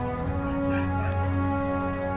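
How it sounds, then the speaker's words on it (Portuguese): A female dog whines and cries steadily in the background for about two seconds, sitting beneath a loud, constant tonal hum, with no clear barks and no talking. "desculpa se tiver uns barulhos aí de minha cachorra chorando"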